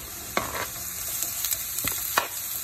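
Beetroot and carrot being sautéed in a pan for a vegetarian borscht: a soft, steady sizzle broken by several sharp stirring scrapes, fairly quiet, with no talking.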